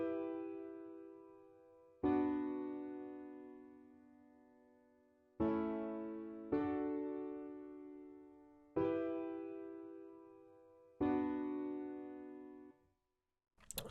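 A layered realistic piano and soft Nexus piano patch in FL Studio play sustained strummed chords, five struck in an even-spaced series, each ringing out and slowly decaying, clear and alone.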